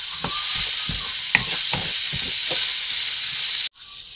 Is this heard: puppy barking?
no